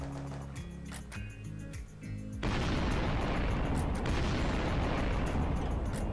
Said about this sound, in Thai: เนี่ยยิง RPG กันแน่นอนเนาะ